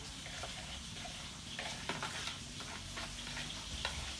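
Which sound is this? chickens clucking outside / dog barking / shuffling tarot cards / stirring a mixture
stirring a mixture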